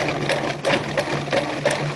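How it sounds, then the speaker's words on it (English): A food processor pulsing pastry dough, whirring in short bursts, a steady motor hum with rhythmic chopping pulses, close by, no talking. "So let's start with the food processor"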